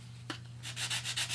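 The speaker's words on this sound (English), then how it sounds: "Now you can take this reliefing block and you can rub off the" A reliefing block rubbed back and forth over a patina-coated metal surface, one light tap followed by several quick close scraping strokes, faint and brief.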